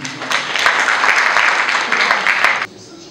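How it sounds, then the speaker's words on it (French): Audience applause at a Senegalese real estate industry gathering, a steady crowd clapping with a few sharper individual claps standing out, cutting off abruptly near the end. "Je vous applaudis."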